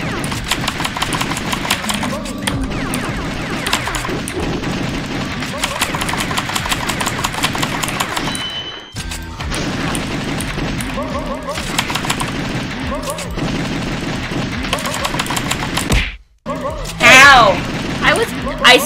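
Rapid bursts of arcade light-gun fire from The House of the Dead 2, loud and nearly continuous with brief pauses, layered over game music and effects while players talk excitedly.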